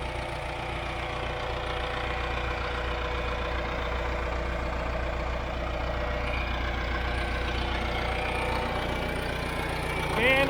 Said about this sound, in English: I got a scoop here with the backhoe.